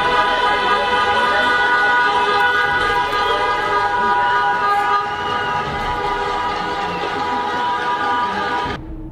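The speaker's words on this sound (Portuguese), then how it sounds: "Alguns motoristas fizeram buzinaço." Drivers honk car horns in a city-street pot-banging protest against a PT political broadcast in Londrina, Brazil, with long, loud, sustained horn blasts overlapping continuously for about nine seconds before cutting off abruptly.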